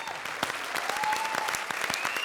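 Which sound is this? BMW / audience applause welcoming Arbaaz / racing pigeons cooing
audience applause welcoming Arbaaz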